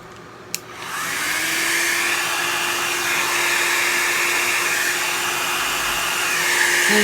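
A hair dryer used to dry alcohol ink switches on with a sharp click, then blows with a steady, close, loud whirring roar that holds constant until the end.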